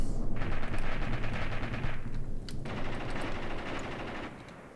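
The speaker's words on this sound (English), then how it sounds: "My mortars are now starting to land, the artillery" Mortar and artillery shells landing in Graviteam Tactics Mius Front, a WWII tank and infantry war game: dense, continuous rumbling barrage of explosions with rapid crackling gunfire layered on top, loud and sustained, easing slightly toward the end.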